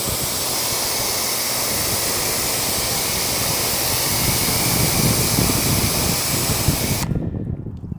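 A pressure washer sprays a coated car panel in a loud, steady hiss of water that runs continuously, then cuts off abruptly near the end.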